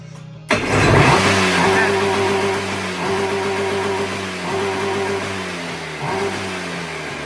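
A small engine starts up abruptly and revs repeatedly in rhythmic surges, loud and close, with a steady droning idle between the bursts.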